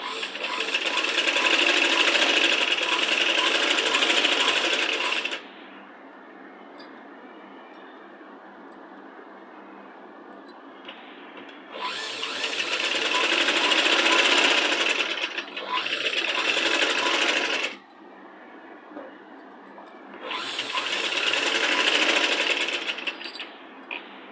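Sewing machine stitching the sleeve of a child's Punjabi dress top, running in three loud sustained bursts separated by quieter pauses with faint low hum between runs.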